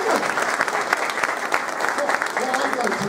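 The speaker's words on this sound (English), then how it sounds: "A special round of applause for John." An audience at a racing owners club gathering during a BTCC media day breaks into a dense burst of clapping that carries on throughout.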